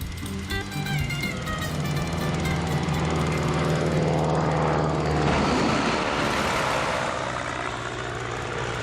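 A heavy military cargo plane takes off on a short runway with up to eight JATO rocket boosters, a loud continuous engine roar that builds and sweeps in pitch midway as it passes close, with no talk.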